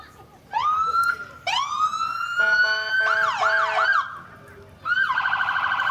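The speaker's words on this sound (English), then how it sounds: "without fail, the moment you go to speak, the sirens go off." Emergency vehicle sirens at a small-town summer parade wail and yelp in overlapping bursts, loud and close, starting and stopping several times with brief gaps between.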